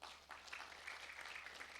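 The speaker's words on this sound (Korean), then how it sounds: "띵동땡 박수" Audience applause at a lecture-hall talk in Jangseong, a steady soft patter of clapping from a seated crowd, faint and even throughout with no voices over it.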